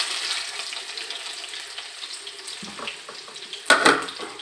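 Green chillies and ginger tossed into hot oil in a pan give a steady sizzle and crackle, with a louder burst of spattering near the end, no voices.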